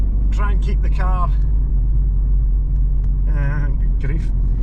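Vauxhall Cavalier C20XE engine with a holed exhaust idling at low revs, a steady, loud, low rumble that runs through the whole stretch while people talk over it.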